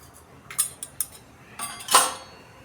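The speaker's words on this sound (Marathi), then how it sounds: "जिरे तडतडले" Cumin seeds hitting hot oil in a pan while cooking a village-style spicy mutton curry, giving a few sharp crackling pops and short sizzles, then a louder burst of spitting near the end, close by.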